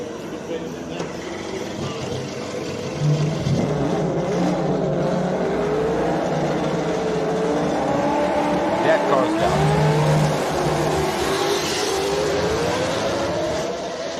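A race car engine screams and revs up and down as the car climbs during qualifying at the 2023 Simola Hill Climb, loud and sustained, with a voice talking over it.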